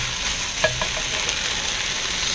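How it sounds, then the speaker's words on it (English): Italian seasoned ground turkey browning in a pan, a steady close sizzle with a couple of quick utensil scrapes and taps against the pan. "So I got this all ground up in here and browned up."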